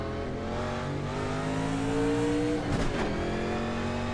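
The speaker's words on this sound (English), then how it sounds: "So yeah, 1987 Pontiac Grand Prix." A 1987 Pontiac Grand Prix cup car engine in a racing game, a steady loud drone that rises in pitch as it accelerates, then drops sharply with a brief burst around a shift before climbing again.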